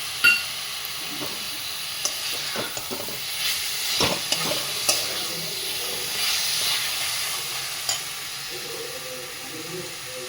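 Minced meat and peas fry in an oil-slicked wok, producing a steady close sizzle and hiss, with occasional scraping stirs and a sharper clatter near the middle.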